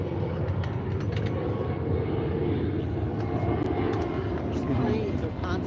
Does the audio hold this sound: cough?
no